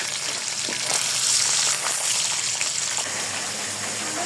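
A fish head frying in hot oil in a pan, making a loud, dense, continuous crackling sizzle close up, steady throughout with no talking.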